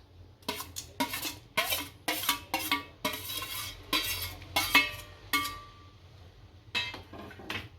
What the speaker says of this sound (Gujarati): ખાંડ હલાવી નાખશું સારી